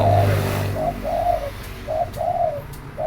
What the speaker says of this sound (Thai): ฟังเสียงนกเขา